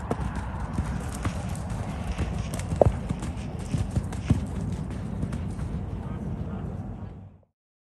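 Gaited horse hooves clop along steadily in an uneven, cross-cantering rhythm, wrong lead behind, fairly close, with low rumbling background noise throughout.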